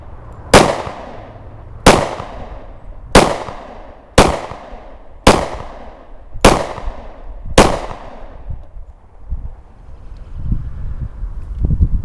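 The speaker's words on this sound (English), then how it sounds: "Cousin Randy taking some shots with the PT145" Seven sharp shots from a Taurus PT145 pistol fired outdoors at an even, unhurried pace, each loud crack trailing off, with wind buffeting the microphone after the last shot.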